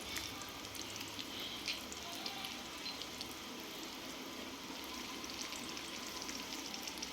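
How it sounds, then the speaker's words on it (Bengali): Cinnamon, cardamom, bay leaf and a pinch of cumin fry in hot oil in a kadai, giving a steady, even sizzle. The hiss is close and continuous, with faint pops and no talking. "কড়াইয়ের মধ্যে আমি দিয়ে দিলাম দারচিনি এলাচ তেজপাতা আর সামান্য একটু সাদা জিরে"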